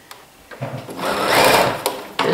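Sewing machine stitching a garment shoulder seam, a steady whirring run that swells in the middle and ends with a few short clicks, close and clear with no talking.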